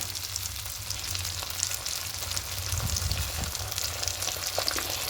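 Rohu fish masala with sour yogurt cooking down in a pan, a steady close sizzle with soft stirring movements running through it, alone without voices.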